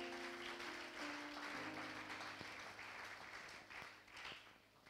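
A church congregation claps and cheers together in a steady, sustained round of applause that fills the room and slowly tapers toward the end, with no talking over it.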